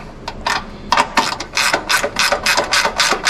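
A ratchet tightens the ground wire bolt on a Chevy C10 during an LS swap, giving a loud, close series of sharp, evenly paced clicks that speed up into a steady rhythm.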